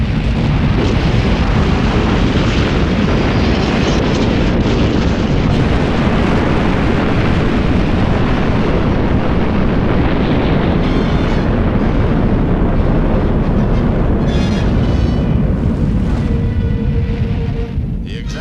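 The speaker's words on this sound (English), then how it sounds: "official Defense Department films of the launching of the 72-foot missile, a loss of thrust, and fall back to Earth in split seconds" A 72-foot Vanguard rocket launches, loses thrust, falls back to Earth and explodes. A loud, unbroken, roaring rumble fills the whole stretch with a heavy low-end wash.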